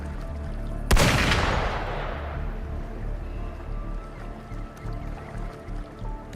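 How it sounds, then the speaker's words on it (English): A single sharp gunshot cracks in a video game and decays into a long, rumbling wash of noise, followed by quieter ambient sound. "Gunfire! We've got intruders."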